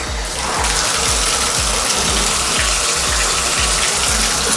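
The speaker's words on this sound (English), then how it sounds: "We're gonna go ahead and give this shower head a good quick try" Water sprays hard from a 20-stage filtered shower head into a tub, a loud steady hissing gush over a low rhythmic pumping throb from the plumbing, close and continuous with no talking.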